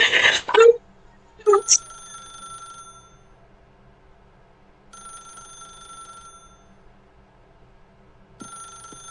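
Telephone ringing in The Stanley Parable, a bright electronic ring that repeats in separated bursts, with a few short vocal sounds near the start and a faint background hum.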